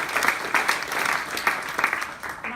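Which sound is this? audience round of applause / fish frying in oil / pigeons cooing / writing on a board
audience round of applause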